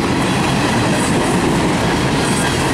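A freight train of empty railroad cars rolls past close by, a loud continuous rumble and rattle of wheels and cars that holds steady throughout.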